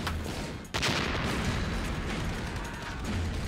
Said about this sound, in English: The Japanese in the right bunker keep the Marines away with a steady barrage of rifle fire